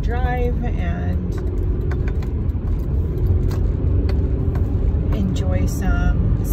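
A car drives along the road with a steady low rumble of engine and tyres inside the cabin, and a voice talks over it in places.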